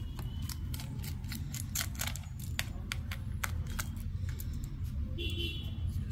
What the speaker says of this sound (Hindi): अभी हम यहाँ का भी इसका स्क्रू ओपन कर देंगे एक